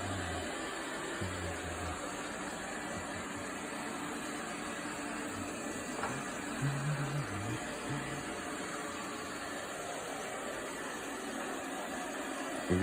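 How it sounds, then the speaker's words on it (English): A robot vacuum cleaner rolls across the floor, giving a steady, low whirring hum with a constant hiss that holds evenly throughout, faint and continuous with no talking over it. "If you guys want a robot vacuum cleaner,"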